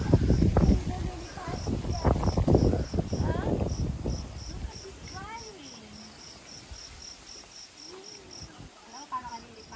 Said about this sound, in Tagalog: Ang daming grasshopper.